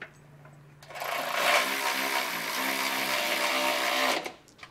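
A power tool whirs for about three seconds, tightening nuts during a Curt trailer hitch receiver install on a 2023 Toyota Corolla, a close, steady high-pitched buzzing burst that starts and stops abruptly.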